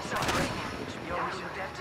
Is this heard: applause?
no